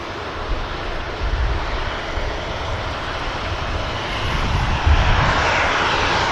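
Turkish airliner taxiing out at Manchester Airport for the return to Istanbul, a continuous low jet engine rumble with a steady hiss, rising slightly toward the end, no voices.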